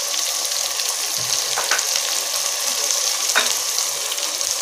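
Brinjal pieces sautéing in a pan while brinjal rice is made, giving a steady, close sizzle throughout with a couple of faint scraping stirs, and no voices.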